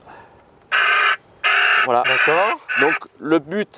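An acoustic bird scarer at Marseille Provence airport blares a harsh, loud distress call in a few broad, buzzy bursts, followed by a voice speaking French over the fading calls.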